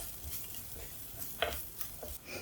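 Onions and curry leaves sizzle in a pan as they are stirred, giving a soft, continuous frying hiss with occasional scraping clicks from the spoon.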